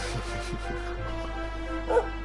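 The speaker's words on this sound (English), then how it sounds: "Oh, there's a doggy." A dog in the video game Dragon Quest barks and yips in short bursts, moderately loud over a steady game soundtrack hum.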